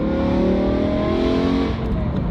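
A sports car engine revs up close and loud, a rising harmonic whine that sweeps upward then eases off toward the end.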